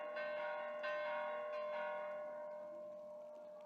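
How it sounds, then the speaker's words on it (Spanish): Church bells ring for a great church feast, a loud overlapping peal with ringing strikes early on that then sustains and slowly fades, with no voices. "suenan todas las campanas como señal de alegría."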